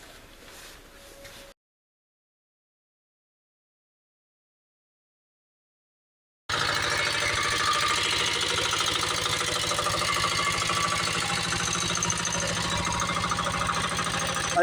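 A motorcycle engine idles in a steady, loud, rapid chug after a stretch of silence, with a short faint sound before the silence and no talking.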